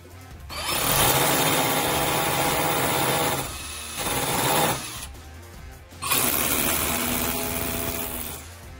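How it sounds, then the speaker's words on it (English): A Ryobi 18V ONE+ cordless 4-mode SDS+ drill bores holes into a wall in two loud, close bursts of grinding whine. The first burst runs about four seconds with a dip partway through, and after a brief pause a second burst follows. "I'll be drilling some holes because I'm going to mount my charger on the wall"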